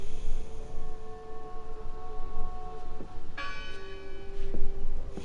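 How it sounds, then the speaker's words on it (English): A bell rings in the horror video game Draugen, ringing tones sustaining over a rushing windy ambience, with a second, brighter strike partway through that swells and slowly decays. "I heard the bell."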